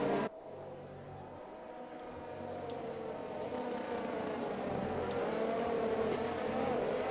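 Cars in the GP3 racing video game roll around the Abu Dhabi circuit to re-form the starting grid. A sustained engine drone builds gradually in loudness, with no voices.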